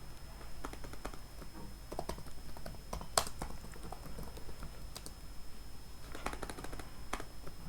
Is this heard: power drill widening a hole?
no